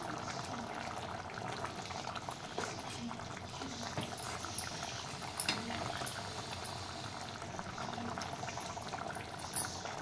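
A pot of high-protein curry simmers on the stove, giving a steady close bubbling and popping throughout, with no talk.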